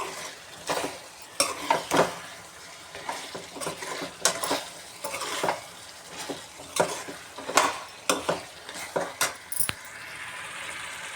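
Chicken frying in a pan gives a close, continuous sizzle broken by regular clattering stirs and utensil knocks against the pan. There is no talking.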